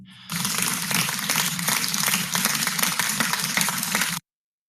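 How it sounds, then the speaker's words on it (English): Applause from a small live studio audience on a midday political talk show, a steady burst of clapping that starts abruptly, holds even for about four seconds and then cuts off sharply. "Let's give a round of applause for that."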